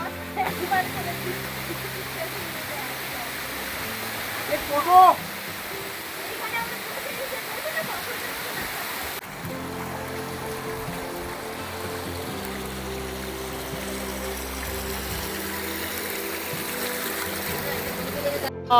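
The Mawlyngbna river rushes in a steady, full flow of water close by, a continuous broadband roar with a brief splash midway and faint voices in the background.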